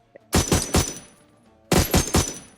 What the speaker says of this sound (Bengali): সেটা পাবেন মূলত ফায়ারিং সাউন্ড ইফেক্ট